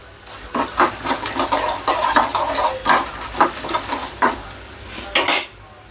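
Ingredients for dal khichdi frying in a pan while a utensil scrapes and taps against the metal, irregular stirring clinks over a soft steady sizzle.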